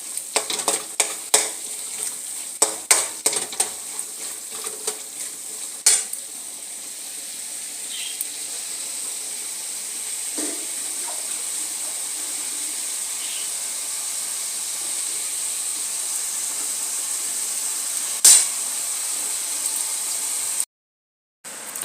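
Tempering for tempered rice frying in a pan: a steady soft sizzle and hiss runs throughout, with sharp clicks and scrapes of stirring early on and occasional knocks, ending abruptly.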